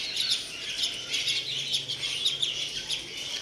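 Chickens and small chicks chirp nearby in a yard. Quick, high, repeated peeps come in overlapping bursts, with a faint low cluck beneath them.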